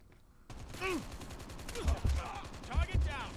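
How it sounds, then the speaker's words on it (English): Bursts of gunfire ring out in Call of Duty Mobile as players trade shots across a map, several heavy low thuds landing in clusters amid game sounds, with voices talking over them. "they're just kind of shooting each other and staying on their sides"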